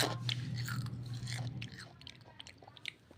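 Crunchy Piwi snack is chewed close to the microphone, a run of crisp, irregular crunches and bites that fade to softer chewing, with no talk.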